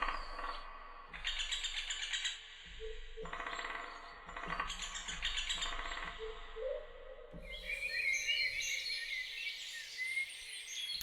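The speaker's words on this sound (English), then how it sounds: "I always find the sound of birds very peaceful, and it's a very nice recording there." Birdsong from a Terra Incognita sound-effects collection: bursts of bright chirps and trills at varying pitch, mixed with some processed tonal textures and a denser chorus of calls toward the end, with no talk.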